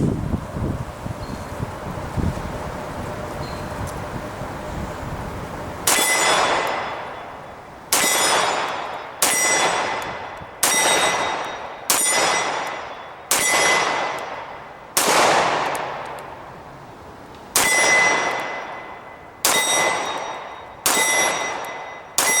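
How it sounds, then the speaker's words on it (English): A Smith & Wesson SD9 VE pistol fires lead bullets outdoors, with about ten sharp, loud shots at an uneven pace, each trailing a short echo, after a stretch of wind noise. "Dave's going to try out the Smith & Wesson."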